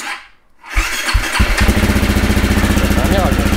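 A dirt bike that has only three hours of use is kicked over and fires up after a brief quiet moment, then settles into a loud, close, rapid idle with a sharp throbbing rhythm.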